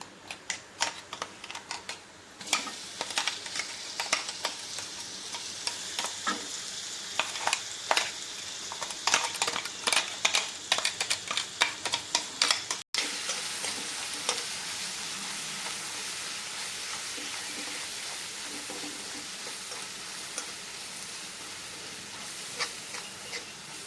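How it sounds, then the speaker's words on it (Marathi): Ground spice paste with cumin and asafoetida sautéing in oil, a soft sizzle broken by quick, clustered tapping and scraping of a spoon in the pan, busy at first and then thinning to a steadier fry. "आपण वाटून घेतलेलं हे वाटण छान या तेलावरती परतून घेऊ"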